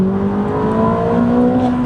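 Ferrari 849 Testarossa at full throttle in wet mode, a steady loud engine drone with rising tonal whine as it accelerates, heard from inside the car without talk.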